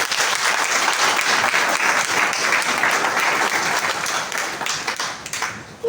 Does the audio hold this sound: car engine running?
no